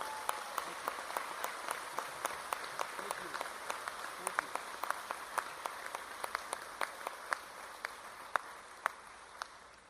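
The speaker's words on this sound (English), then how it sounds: "Let's give these folks a round of applause." Commencement ceremony audience applauding, heard as a steady wash of distant clapping with regular sharper claps standing out, fairly faint and reverberant in a large hall, with murmuring voices underneath.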